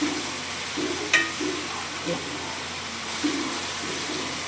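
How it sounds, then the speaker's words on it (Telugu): Tomatoes frying in a pan for a Nellore-style fish curry, a soft continuous sizzle with occasional stirring scrapes and small pops, fairly quiet and steady throughout. "బాగా టమోటాలు బాగా వేగాలి."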